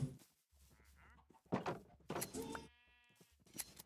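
Sheep in Minecraft bleat in several short wavering calls, close and fairly quiet, mixed with blocky game thumps and some talking.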